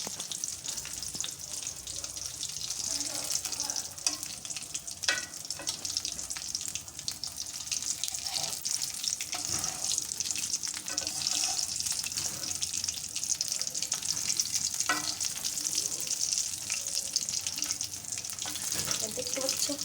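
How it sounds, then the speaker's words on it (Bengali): Chicken pieces fry in a pan with a steady, bright hiss and crackle, punctuated by scattered scraping clicks as they are stirred, moderately close and continuous for about twenty seconds. "দেখো আমাদের চিকেন ফ্রাই রেডি হচ্ছে"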